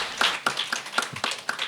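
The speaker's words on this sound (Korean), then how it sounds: "다시 한번 박수 부탁드리겠습니다." Quiet, evenly spaced hand claps from a small audience at a Korean legislative and policy proposal award ceremony. About seven distinct claps sound in quick succession, each crisp and separate.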